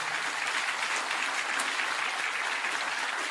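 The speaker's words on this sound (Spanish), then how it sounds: "Un aplauso para ellos, por favor." Applause from a church congregation, a steady wash of clapping filling the room at moderate level and holding evenly throughout, with no talking over it.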